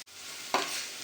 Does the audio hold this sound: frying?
yes